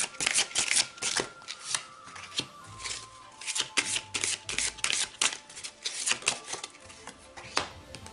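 Tarot cards are shuffled in repeated close, crisp riffling bursts for an Advent reading, a quick flurry of papery slaps and flicks with brief pauses between rounds.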